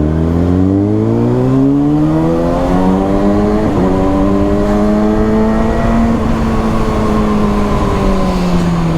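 A Kawasaki Ninja ZX6R motorcycle accelerating hard with a quick shifter, its engine revving in loud rising sweeps broken by quick gear changes, close and continuous, with no voices.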